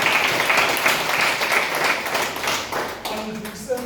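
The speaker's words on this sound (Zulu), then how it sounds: "sibashayele ihlombe elikhulu" A church congregation breaks into a burst of clapping and applause, moderately close. Voices murmur underneath, and the sound tapers slightly toward the end.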